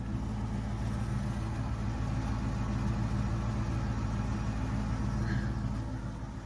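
A 2000 Lincoln Town Car engine runs steadily at idle, a continuous low rumble close by with no talk over it.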